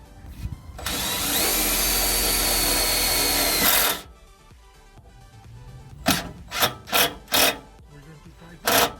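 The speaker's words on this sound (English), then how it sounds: "Once it's aligned, it's much easier to make a hole." A power drill bores a hole under a Hummer H2 while pod lights are fitted: one loud, steady whirring burst of about three seconds, close by, then a quieter gap and a run of sharp knocks.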